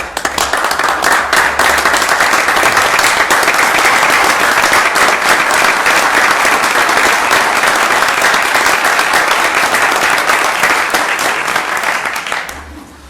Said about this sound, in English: we owe you a standing applause